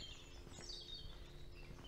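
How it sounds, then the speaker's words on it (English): A blackbird sings somewhere off to the right along a woodland walk in late March, its whistled phrases faint and distant over a steady outdoor background hum. "you can clearly hear a blackbird"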